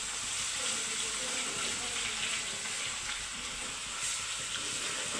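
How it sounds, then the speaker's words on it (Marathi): Ginger garlic paste fries in hot oil, giving a steady, dense sizzle that holds evenly from start to finish with no pauses. "आता मी सगळ्यात पहिले ह्या अद्रक लसूण पेस्ट मी त्याच्यामध्ये सोडणार आहे"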